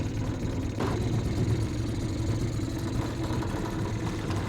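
A Mercury 2.5 hp two-stroke outboard motor runs steadily at close range, giving a continuous low buzzing drone with no speech over it.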